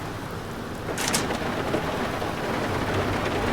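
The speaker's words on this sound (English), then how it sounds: "I don't think it's going to be of much effect with this heavy rain" Heavy rain in the submarine game UBOAT pours steadily with a dense, continuous hiss, broken early on by a brief sharp burst of noise.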